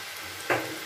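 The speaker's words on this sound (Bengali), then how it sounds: "অল্প অল্প করেই এইভাবে ভেজে নিতে হবে" Masala cashew nimki dough pieces deep-frying in hot oil, a steady soft sizzle with one brief louder bubbling burst as a batch drops in.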